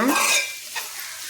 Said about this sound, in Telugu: ఉల్లిగడ్డ పచ్చిమిర్చి తాలింపుకి వేసి